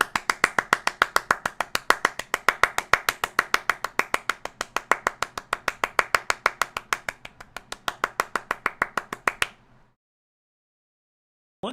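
Rapid, even clapping that sounds like a small group or a single person applauding, steady and fairly loud for about nine seconds, then stopping abruptly into silence.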